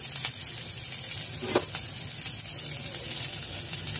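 Chopped coriander leaves frying and stirred in a pan for a mashed roasted eggplant dish, a close continuous soft sizzle with one brief clink partway through, and no voices.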